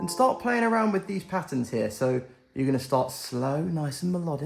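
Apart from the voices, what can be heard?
None of the usual background noises is heard.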